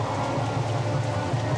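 Heavy rain and wind in a TVB period drama, a steady dense hiss of downpour with low rumbling gusts, loud and continuous with no voices.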